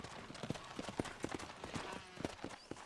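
Horse hooves clip-clop steadily in Red Dead Redemption, faint beneath a soft background hiss, with no clear speech.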